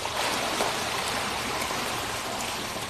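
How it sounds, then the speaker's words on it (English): A tremendous wall of water rushes down a valley from a collapsing model dam, a loud, steady, dense roar of turbulent flow filling the whole moment with no voices. "When it goes, we get a tremendous wall of water come down the valley."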